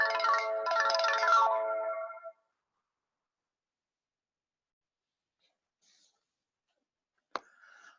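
A phone ringtone plays a bright melodic tune for about two seconds and then cuts off, followed by near silence, a faint rustle and a single sharp click.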